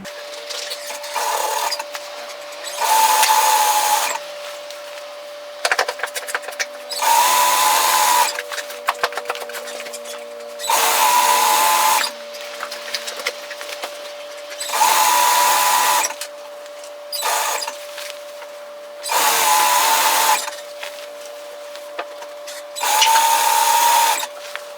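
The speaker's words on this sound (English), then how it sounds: "Then it's just a matter of sewing this together." A sewing machine stitching a dress facing seam with a 6 mm allowance, running in steady bursts of a few seconds each separated by short quiet gaps, close and clear with no talk.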